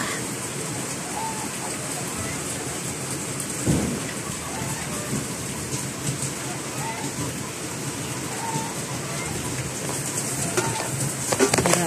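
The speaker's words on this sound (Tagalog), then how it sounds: "Balik-balik ang ulan sa Manila." Heavy rain pours steadily and loudly throughout in Manila, with a low rumble of thunder breaking through partway.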